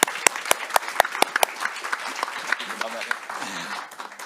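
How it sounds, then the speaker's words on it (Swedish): Scattered hand claps start sharp and distinct, then blend into a light round of applause that fades toward the end. "En stor applåd för dem igen."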